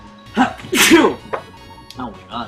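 A person gives one loud, explosive sneeze, bracketed by short bits of close talking.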